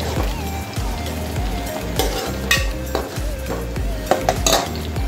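Tomato frying in hot oil while being mashed for an egg bhurji curry: steady close sizzle with rhythmic scraping and clinking of a spatula against the pan.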